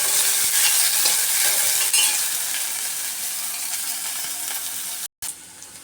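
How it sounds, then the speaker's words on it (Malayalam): Small onions, ginger and garlic frying in a pan for a Kerala beef dish, stirred steadily, with a loud dense hissing sizzle that softens slightly, broken by a brief silence near the end. "ഇതൊന്ന് ബ്രൗൺ കളറാവുന്നിടം വരെ നമുക്കൊന്ന് ഇളക്കി കൊടുക്കാം."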